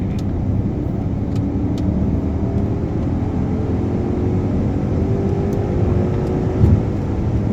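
A 2010 Audi A8 4.2 V8 quattro accelerating on a highway, heard from inside as a steady, muted engine drone with road and tyre rumble, continuous and even, no talking.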